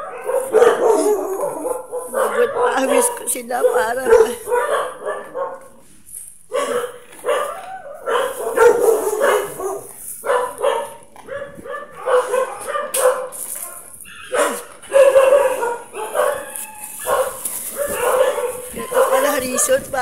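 Dogs held at an impounding facility in the Philippines bark, yip and whimper almost continuously, loud and close, while someone talks over much of the noise.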